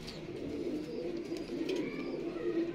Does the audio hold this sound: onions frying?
no